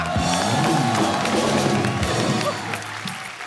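Studio audience applause for guests on The Kapil Sharma Show, a TV comedy show, with crowd clapping and cheering mixed with music and voices, gradually easing off.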